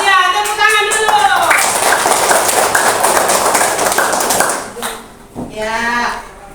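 A classroom of children claps their hands together in a loud, dense burst of applause lasting a few seconds, with an adult voice speaking just before and after.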